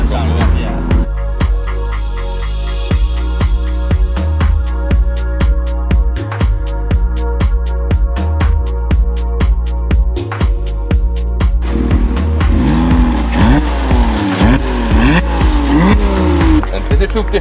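A Porsche Cayman 987 with a loud exhaust revs and drives in a sustained roar, with repeated rhythmic pulses and shifts, heard up close; talking voices come in over the engine toward the end.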